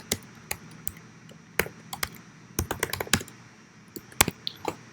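Quick, irregular clicks of typing a title on a computer keyboard, close and fairly quiet, with bursts of keystrokes and short pauses between them.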